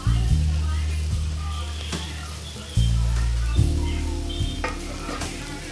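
Spices, coconut powder, salt and chilli powder sizzle in a pan with fried onions while being stirred, a steady loud frying hiss with scraping strokes and a low hum throughout.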